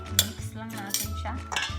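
A utensil stirs fresh minced garlic and chili flakes together in a bowl, giving quick scrapes and clinks of metal on dish in short irregular bursts, close and fairly quiet.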